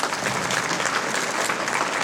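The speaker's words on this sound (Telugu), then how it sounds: "చప్పట్లు" Audience applause at a Gandhi Jayanti welfare event held at Nellore central prison, a brief, dense burst of many hands clapping at moderate distance, steady throughout with no voices over it.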